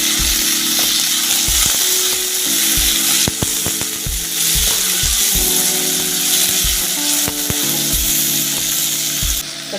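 Chopped tomatoes sizzle and fry loudly in an oil-filled pan on the stove, a steady hiss broken by repeated low clacks and scrapes of a spoon stirring throughout, with no voices.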